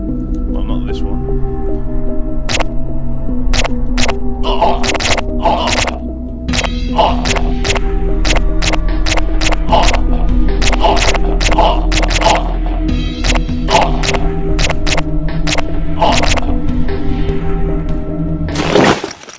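Dark, moody stage music from the video game Magic Barrage plays continuously, with sustained low tones under a steady run of sharp, regularly spaced percussive hits.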